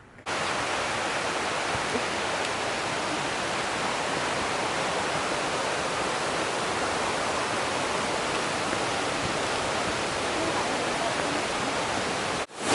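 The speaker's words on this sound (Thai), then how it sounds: "ก็จะเป็นน้ำตกลานเสด็จค่ะ" Lan Sadet waterfall in Chiang Mai, Thailand, with rushing water pouring down in a steady, dense hiss that holds evenly throughout, loud and close with no voices.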